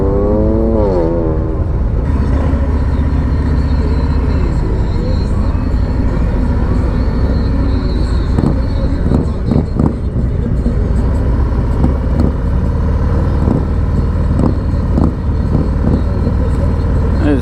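A motorcycle engine idles and pulls steadily during slow-speed riding with the clutch preloaded and light throttle, a low continuous drone with wind noise throughout.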